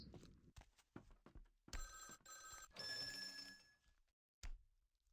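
An old-style telephone bell rings in bursts in a Vampire: The Masquerade – Bloodlines game scene, between thuds and footsteps, fading into quiet before a final knock.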